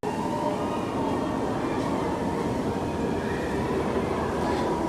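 A theme park train rolls around the perimeter of Disneyland Paris with a continuous rumble of wheels on rails, steady and fairly close, with faint squeals and clacks over the drone.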